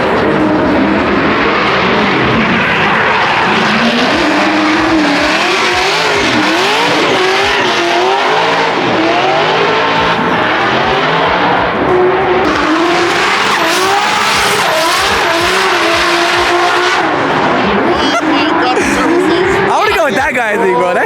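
A BMW E46 drift car at a Formula Drift event on the streets of Long Beach, loud roaring engine and sustained tire squeal close by, with crowd noise and voices beneath.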